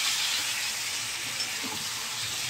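Chicken and spice paste fry in a pan, a steady close sizzle and hiss running evenly throughout with no talking.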